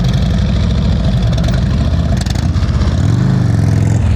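A motorcycle engine runs at low throttle while the bike creeps slowly through a practice cone course, giving a loud, close, steady rumble that swells slightly near the end.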